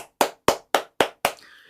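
A lone person gives five or six slow, evenly spaced claps, close and crisp, as a brief tribute to the poet Jeong Jae-hak, with nothing else around them.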